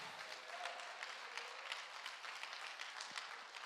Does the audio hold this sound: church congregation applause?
yes